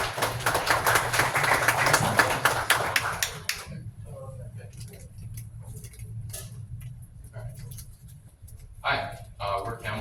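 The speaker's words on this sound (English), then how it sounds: "Let's give a round of applause to Bito." Short burst of audience applause at a tech startup demo night, dense clapping for about three seconds that stops abruptly, followed by someone speaking into a microphone in a quieter room.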